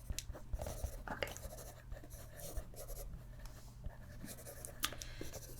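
A pen scratches on paper close to the microphone in a soft, quiet run of short strokes, with a low steady hum underneath.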